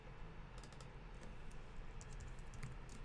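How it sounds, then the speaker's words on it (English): Quick, uneven typing on a computer keyboard during a software webinar, light clicking keystrokes in short bursts over a steady low background hum, fairly faint and close. "it's terrible at typing today"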